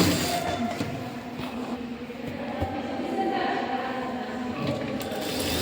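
A sewing machine stitches around the sleeve of a princess-cut blouse, giving a continuous rattling, ratchet-like mechanical clatter at moderate loudness under a fairly noisy room, with some talk mixed in.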